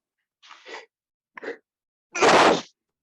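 A person sneezes once in a late-night tabletop game session: two small breathy intakes build up, then a sharp, loud burst, heard close and alone.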